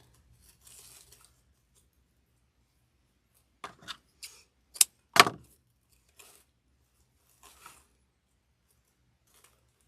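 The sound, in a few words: scissors cutting pine for a snowman wreath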